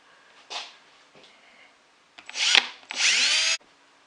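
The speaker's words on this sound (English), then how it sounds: "Right now I'm going to drill my pilot holes." Power drill boring small pilot holes in a cedar backer board, with a short burst first, a brief touch, then two longer whirring runs in quick succession, close and clear with no talk.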